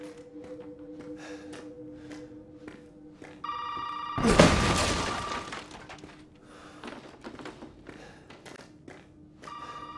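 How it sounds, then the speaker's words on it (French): An old telephone ringing in the Resident Evil 7 demo, with short repeated rings around a sudden loud burst of breaking and shattering debris, then quieter taps and soft ambience. "Alors ça y est, le téléphone se met à sonner."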